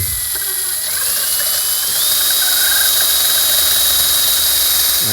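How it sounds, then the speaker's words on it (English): A battery-powered drill cutting into a Linhai ATV gives a steady high-pitched mechanical whine throughout, loud and close, rising slightly in pitch partway through as it spins up. "we'll just go ahead and use my battery-powered drill, and we'll just go in here and"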